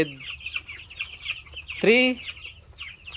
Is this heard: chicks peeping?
yes